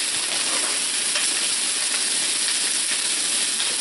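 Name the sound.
lamb chops searing in a pan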